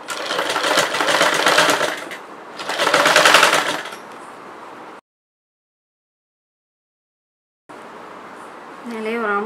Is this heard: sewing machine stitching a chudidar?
yes